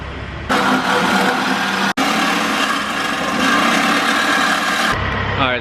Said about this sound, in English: they're trimming off more of the axle back part so they can clamp on the non-resonated section to the mid pipe